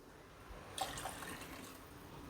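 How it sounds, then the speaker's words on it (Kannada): Water poured into a cooking pan to boil vermicelli, a steady splashing pour that starts partway through and runs on close by, alone without talk. "ಈಗ ನೀರು ಹಾಕ್ತಾಯಿದ್ದೀನಿ ಎರಡು ಬಟ್ಲಷ್ಟು ನೀರು ಹಾಕ್ತೀನಿ"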